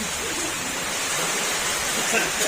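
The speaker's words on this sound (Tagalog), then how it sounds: "malakas nga yung ulan natin ayan malakas" Steady dense hiss of heavy rain pouring down, loud and unbroken throughout.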